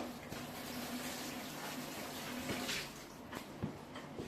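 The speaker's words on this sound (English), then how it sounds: "I wash my hands" Hands washed under a running tap: a steady, soft stream of water splashes close by at low level, with a few faint knocks and rubbing sounds, no speech.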